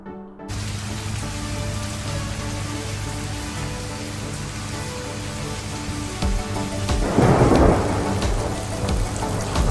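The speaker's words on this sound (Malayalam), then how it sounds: "നല്ല ഇടിവെട്ടുന്നൊക്കെ ഉണ്ട് കേട്ടോ." Heavy rain pours steadily at a resort in Coorg while a deep rumble of thunder swells and rolls through the middle, loud and close.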